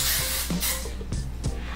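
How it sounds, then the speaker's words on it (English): Short hissing bursts of hairspray sprayed close up onto hair set in rollers, four or five quick spritzes in a row. "I'm going to go ahead and spray her."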